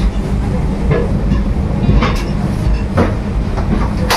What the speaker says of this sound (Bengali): টাইম মতন ট্রেন ঢুকে ট্রেন ছেড়ে দিল